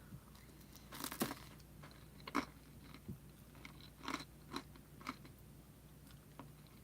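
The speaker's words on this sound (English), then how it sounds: "I like eating the crunchy parts." Crunchy, twice-baked homemade pizza crust is chewed close to the mic, giving a run of sharp bites and crackly crunches at an uneven pace over a quiet hum.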